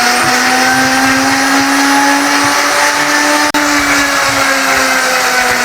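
An electric blender whirs steadily at high speed, loud and close, as it blends toum, the Lebanese garlic sauce, with one brief dropout partway through and no talking.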